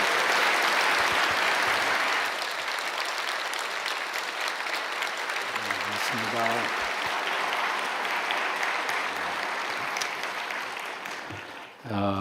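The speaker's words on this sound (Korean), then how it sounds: "우리 목사님 나오실 때 큰 사랑과 감사를 담아서 박수로 환영합니다" A church congregation at a New Year's Eve service applauds to welcome their elder pastor, sustained dense clapping filling the room, with a brief voice speaking partway through and the applause fading near the end.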